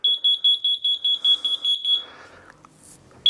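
A mobility scooter's rapid series of high-pitched electronic fault-warning beeps repeats about a dozen times in a steady rhythm, then stops, followed by faint shuffling sounds.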